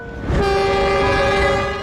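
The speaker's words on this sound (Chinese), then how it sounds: "火车轰鸣着疾驰而过" A train roars past at speed, its loud, sustained horn blaring close by over a rushing rumble of wheels, swelling in quickly and holding for nearly two seconds.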